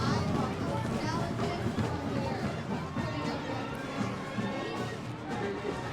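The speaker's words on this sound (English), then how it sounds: "Nice crowd out here tonight." A large outdoor crowd at a Krewe d'Etat Carnival night parade, a steady broadband hubbub of many voices and cheering that holds throughout at moderate level with no clear individual speech.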